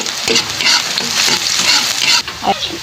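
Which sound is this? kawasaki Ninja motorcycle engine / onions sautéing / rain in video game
onions sautéing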